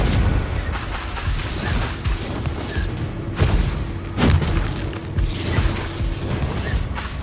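Confringo fire-blast spells going off in a Hogwarts Legacy dungeon battle, dense crackling bursts and thuds amid ongoing combat noise, with a couple of sharper impacts near the middle.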